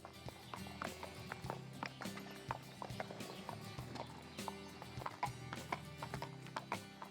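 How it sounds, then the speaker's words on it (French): Horses pulling a carriage around an outdoor arena, hooves clip-clopping in a quick steady rhythm at moderate distance over a constant background rumble. "les chevaux vont travailler les 3 allures, le pas, le trot et le galop"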